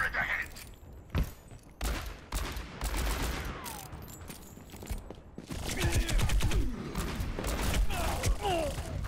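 Enemy turret fire in the Overwatch video game on Xbox One, a sustained rattling barrage with thumps and clatter amid busy game effects, loud throughout.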